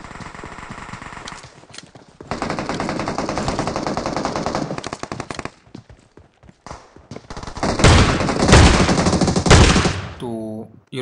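Gunfire in the mobile game BGMI: bursts of rapid automatic shots, a long spray followed by scattered single shots and a louder final volley, played back at close range.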